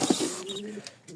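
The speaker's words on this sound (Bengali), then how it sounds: "মাদারীপুর ঘটকচরে আমাদের খুব সুন্দর 2 জোড়া কবুতর" A pair of fancy pigeons with feathered feet coos nearby, one low throaty coo rising over quiet background noise with a faint chirp after.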